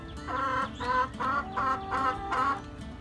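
Chickens cluck in a series of about six rhythmic bursts, close and fairly loud, over a steady low background hum.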